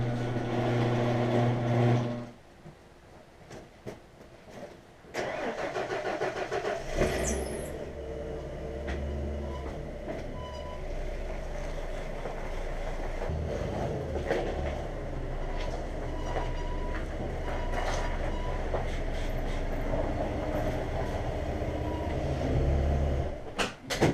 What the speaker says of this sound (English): go ahead and back my truck into my garage